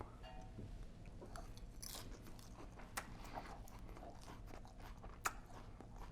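Wheat sprout microgreens being bitten and chewed up close, with a few crisp crunches standing out over a steady low background hum; no talking.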